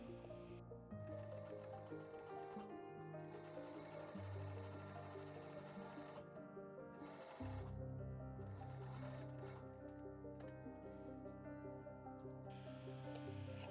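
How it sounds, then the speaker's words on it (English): A sewing machine stitches fabric for a face mask, its motor whirring and needle clattering in a continuous mechanical drone with brief changes in pitch. "Two passes on the sewing machine"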